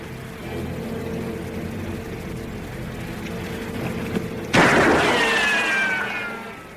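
A single sharp gunshot fired at a tossed piece of shale cracks out in a radio drama, one sudden loud blast that rings and decays over a couple of seconds above a steady low background.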